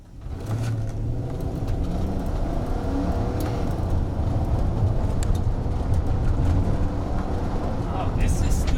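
A Toyota Sequoia engine pulls in second gear on an empty road, a loud continuous drone with road rumble that builds steadily, with someone talking intermittently over it.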